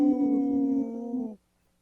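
A person imitates a wolf howl as a single sustained, tonal, voice-like note held for over a second before cutting off abruptly, loud and close with no other sound.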